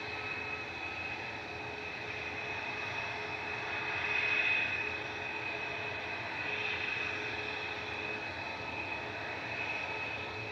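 A jet airliner leaving Manchester Airport for Alicante gives a steady, loud engine roar with a high whine. The roar swells midway and then holds, heard from a distance with no voices.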